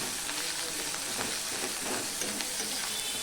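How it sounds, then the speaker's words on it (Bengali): Chopped onions and green chillies fry in hot oil with a steady, close sizzling hiss and scattered crackles throughout. "দিয়ে দিচ্ছি কুচানো পেঁয়াজগুলো আর দিয়ে দিচ্ছি তিনটে কাঁচা লঙ্কা"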